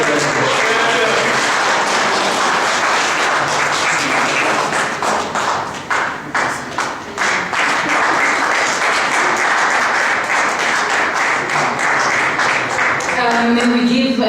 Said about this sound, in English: May we give another round of applause for our speaker.